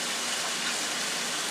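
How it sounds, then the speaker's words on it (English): Vegetable broth pours steadily into a baking dish of rice and vegetables for oven cooking. The liquid makes a continuous close gushing splash with no break and no talking. "So I'm using all the vegetable broth."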